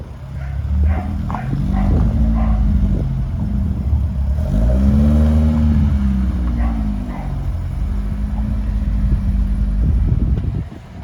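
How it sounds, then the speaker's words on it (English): A dog barks in the background near a finished 1979 Ford Escort RS2000, with a few faint yips under a steady engine drone throughout. "Excuse the dog barking in the background."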